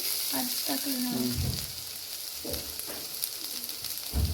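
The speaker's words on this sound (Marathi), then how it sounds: "थोडस लाईट तेल टाकायचं थोडस ओके आणि हे नंतर वरून अद्रक लसूण अद्रक लसूण मिरची मिरची टाकली" Ginger, garlic and chili crackle and sizzle in hot oil in a pan, with a steady frying hiss that builds into a louder spitting burst near the end, over faint background voices.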